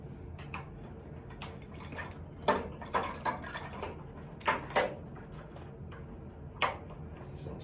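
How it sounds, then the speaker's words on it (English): A replacement upper thermostat on an electric water heater clicks into place, several sharp plastic snaps and taps scattered across the clip over low background rumble. "So this new one will just go ahead and snap down into place right in there."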